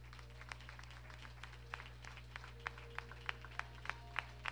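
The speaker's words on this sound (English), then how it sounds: "come on and clap your hands" Hands clapping during a Friday night church service, sparse and irregular sharp claps, quiet and somewhat distant, over a steady low electrical hum.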